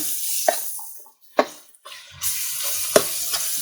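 Ginger garlic paste frying in a pan for a village-style country chicken curry, with a steady broadband sizzle broken by a few sharp scraping or stirring knocks and one brief near-silent gap.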